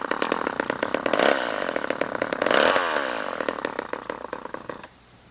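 A chainsaw runs close by and loud, its engine snarling up in two strong bursts and then settling back toward idle with a rattly, uneven putter before cutting off.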